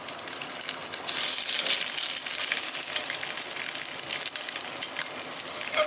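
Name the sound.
egg frying in a pan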